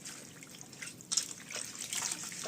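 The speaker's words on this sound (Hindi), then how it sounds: "हम अच्छे से मेथी का पत्ता को धो लेते हैं, 2 पानी से धो लेते हैं" Fenugreek leaves being rinsed in water, washed twice to clear off soil, give a faint, steady trickle and splash that grows a little busier toward the end.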